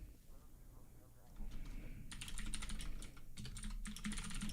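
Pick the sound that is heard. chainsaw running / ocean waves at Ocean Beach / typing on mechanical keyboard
typing on mechanical keyboard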